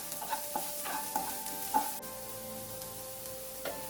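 Finely chopped onions are sautéed on a high flame, giving a soft sizzle under scattered clinks and scrapes of stirring, with ringing metallic tones from the pan. The sound is fairly faint and close.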